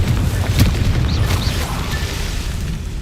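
A Confringo fire-blast spell explodes in Hogwarts Legacy: a loud booming burst with crackling impact, followed by a rumbling roar and sharp magical whooshes that sustain through the clip.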